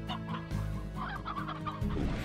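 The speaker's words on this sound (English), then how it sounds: "and lots of chickens." Chickens clucking in the video game Slime Rancher, a few short rhythmic clucks and squawks in a close, clean game soundscape over a low background tone, with no talking.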